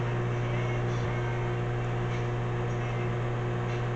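A loud home microwave oven hums with a steady, droning mechanical tone, heavy and constant throughout, with no talking over it.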